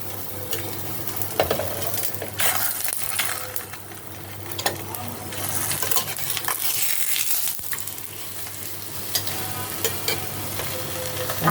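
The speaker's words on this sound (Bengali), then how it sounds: "আমি পরোটাটা ভেজে নেব একটা একটা তেলটা গরম গরম অল্প তেল দিয়েছি তেলটা গরম হয়ে গেছে" A paratha fries in a little hot oil, giving a continuous close sizzle with scattered scrapes and clatters of a spatula on the pan.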